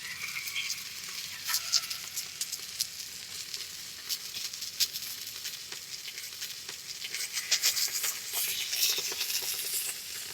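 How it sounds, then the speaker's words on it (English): A boneless beef prime rib roast with its fat cap sears on a hot plate of a Masterbuilt Gravity Series grill, giving a steady, loud broadband sizzle with crackling pops throughout, close up and with no talk. "we're going to roll this on that hot plate. Give ourselves a nice crust on here."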